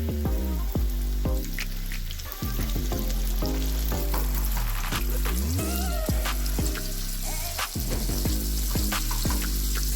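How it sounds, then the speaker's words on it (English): Steady loud sizzling of flour-coated chicken frying in hot oil, with music playing prominently over it throughout. "let the chicken fry to a nice golden color"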